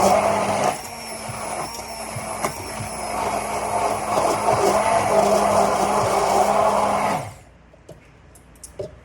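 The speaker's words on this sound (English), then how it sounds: "And then we will just puree it." A blender purees garlicky hummus in one continuous, loud, steady whir lasting several seconds, then cuts off abruptly, leaving faint clicks and handling noises; no speech.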